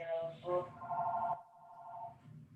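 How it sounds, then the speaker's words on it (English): A telephone rings during an online music arranging class, a short electronic ringtone with a steady tone lasting a couple of seconds, heard over faint background sound. "Please mute yourself if your phone is ringing."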